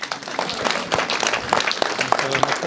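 Audience applause at a Rwandan gathering for traditional imisango oratory, with a crowd clapping densely and continuously at fairly even loudness for the whole stretch.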